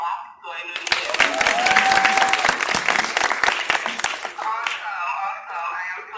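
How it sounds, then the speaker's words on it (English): An audience claps together at a talk on life purpose, a dense, steady burst of applause lasting several seconds, with voices mixed in. "If you guys can hear me, can you clap so I know you hear me?"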